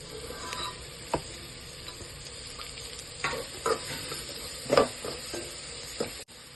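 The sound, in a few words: green chillies sizzling as they are stirred into the dal fry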